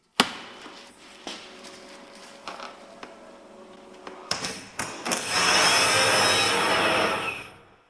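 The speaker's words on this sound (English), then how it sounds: "we're now going to check if our starter motor turns" A burned Lamborghini Gallardo LP520's starter motor, powered from a booster, starts with a few clunks and creaks, then gives a loud, steady whirring grind that runs for a couple of seconds before stopping, heard close up.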